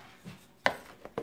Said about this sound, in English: I'm going to mix it up with my wooden spoon